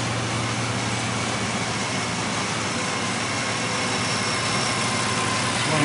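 A car engine idles after a throttle body cleaning, a steady, close, low rumbling hum with even vibration and no speech.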